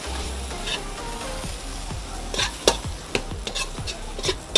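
Potatoes fry in mustard oil in a restaurant kitchen, with a steady sizzle broken by repeated scraping and clinking as a utensil stirs them in the pan, close and alone.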